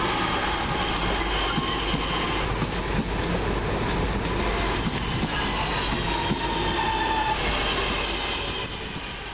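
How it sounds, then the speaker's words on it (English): A London Midland Cross City passenger train pulls into a station at Chester Road, a loud rolling rumble of wheels with metallic squeals and rattling clicks, close by and slowly easing off at the end. "Next train in, the 12:14 London Midland Cross City service from Lichfield Trent Valley to Longbridge."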